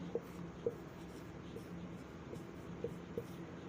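Marker or chalk writing on a board during a science lesson, heard as faint scattered taps and strokes in a quiet room.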